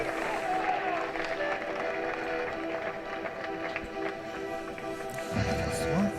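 Cricket spectators at a Gloucestershire v Essex one-day cup match clap and cheer at a distance, a steady diffuse crowd wash running throughout with a brief louder burst near the end.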